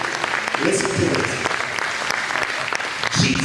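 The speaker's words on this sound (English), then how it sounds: "go ahead and clap those hands" An audience claps hands together inside a church during a sermon, a steady, dense wash of applause that continues throughout while the preacher's voice carries over it.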